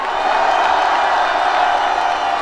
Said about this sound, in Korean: 또 우리의 함성이 들리십니까?